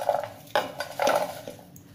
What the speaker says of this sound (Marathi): या कुकरच्या डब्यामध्ये आपण भाज्या काढून घेऊ